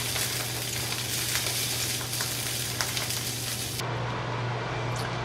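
Salmon fillet sizzles steadily in a hot pan, a dense, even crackle and hiss heard up close with no talking, the frying continuing unbroken throughout.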